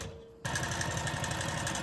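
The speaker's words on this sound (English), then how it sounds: "now I'm just going to sew down the whole length" A sewing machine stitching the full length of a seam on a quilt-as-you-go eccentric star quilt block: after a brief quiet start it runs as a steady, rapid mechanical whir, close and continuous.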